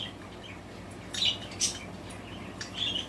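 Pet budgies let out a few scattered, sharp chirps in the background against a low, steady room noise.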